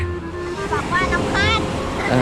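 Sea waves surge up a sandy beach toward a sand castle, a loud continuous wash of surf mixed with wind buffeting the microphone, while voices call out excitedly over it.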